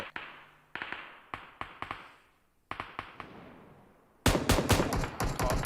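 Gunfire in PUBG Mobile from a player shooting while prone comes as sharp single and paired shots with echoing tails, then a denser, louder burst of rapid fire at the end.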